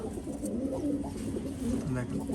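Selected top-quality pet pigeons cooing continuously in a loft, soft overlapping low coos forming a steady murmur close by, with background noise throughout.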